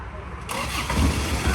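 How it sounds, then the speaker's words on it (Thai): A car engine cranks and starts using a newly installed remote push-start system, a brief close mechanical rumble that settles toward idle as someone talks over it. "อันนี้กดสตาร์ทผ่านรีโมทตัวที่เราติดตั้งเข้าไปใหม่ เป็นระบบพุทสตาร์ทนะครับ"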